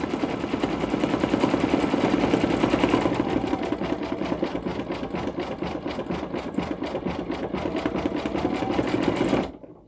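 An embroidery machine stitches out a flower design on a hooded towel, its needle hammering in a fast, steady, even rhythm that runs loud and alone, then stops abruptly at the end.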